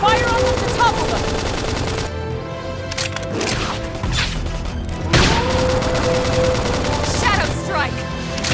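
Rapid bursts of gunfire and blasts in the combat of Xenoblade Chronicles X: Definitive Edition, loud and dense, mixed with game music and character voices calling out.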